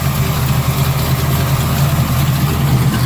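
A speedboat's starboard engine idles loud and steady, a deep even rumble running throughout with no voices.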